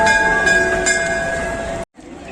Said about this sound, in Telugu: పూణే రైల్వే స్టేషన్ ఇట్లుంది